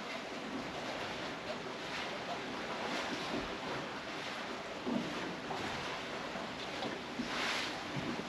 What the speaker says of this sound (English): so the wind is blowing us now wrong direction